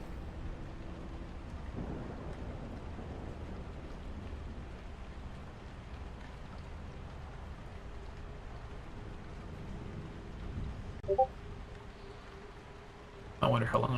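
Steady rain hisses throughout a Lies of P video game scene, with low rumbling underneath and a few brief clicks and knocks near the end; a voice talks over it.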